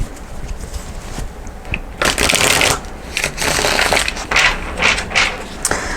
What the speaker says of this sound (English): One more shuffle, guys, and then I'll go ahead and get into it.